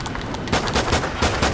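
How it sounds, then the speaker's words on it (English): Gunfire in Call of Duty: Ghosts, said to come from a handgun, as a loud, close series of rapid shots in quick irregular bursts with no speech over them. "It's a handgun."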